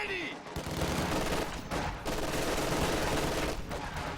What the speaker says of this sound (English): MG42 moves forwards